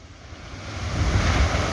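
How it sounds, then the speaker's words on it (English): Ocean waves washing at sea, a broad steady surf rush that swells gradually louder over the stretch, with wind noise buffeting the microphone and no voices. "these waves look good"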